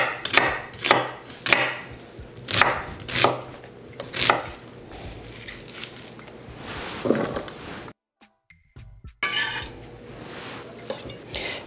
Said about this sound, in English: Rough chop all your vegetables and aromatics